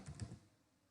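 A single soft keystroke on a computer keyboard, the enter key pressed once at a desk, faint and close, followed by quiet.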